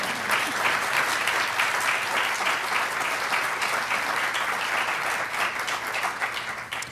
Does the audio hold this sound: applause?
yes